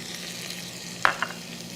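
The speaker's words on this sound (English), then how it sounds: "I am pretty sure you can hear the garlic sizzling." Steady sizzling of garlic and tarragon frying in a pan, with a couple of brief sharper crackles or scrapes near the end.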